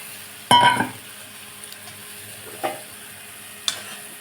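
Fried potatoes clatter into a pan of sizzling spice masala, a sharp metallic clink followed by a soft fry and two more light utensil knocks, close and alone.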